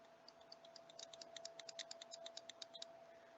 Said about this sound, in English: The bulb is coming on dim and the relay is clicking.